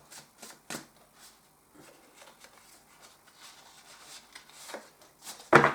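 Tarot cards are shuffled and drawn by hand, soft riffling and flicking with a few sharper snaps, close and fairly quiet, ending in a louder slap.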